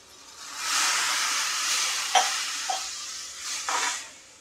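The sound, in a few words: cold water poured into hot cooked spinach-potato vegetable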